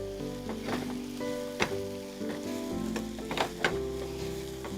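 Onions sizzle with a pinch of salt in a hot pan, a steady frying hiss broken by a few sharp stirring scrapes, with a sustained tonal hum running underneath.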